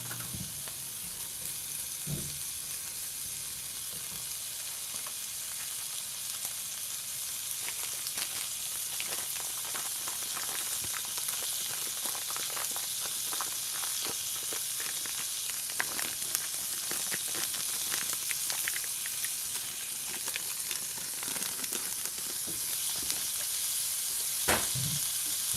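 Bacon and sausage frying in a pan, a steady bright sizzle and crackle heard up close for the whole stretch, with a few soft knocks of utensils.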